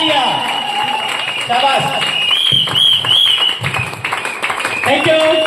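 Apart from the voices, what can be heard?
audience applause and clapping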